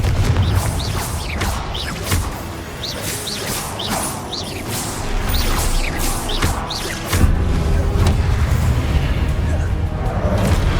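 Confringo blasting spell explosions in the battle game Hogwarts Legacy: repeated booms and whooshing bursts amid continuous loud combat noise, with a rumbling heavier blast near the end.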